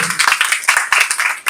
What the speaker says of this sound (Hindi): ये ताली बजाएंगे साधु भगवान साधु के लिए